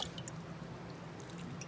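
Water poured over a goat's hooves during hoof scald treatment, faint, close dripping and splashing trickles, quiet and intermittent.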